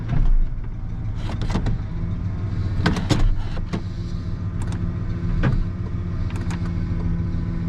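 A 1995 Ford F150 pickup engaged in 4x4 low range, its engine running with a steady low drone and a few sharper knocks and clunks scattered throughout, with no talking.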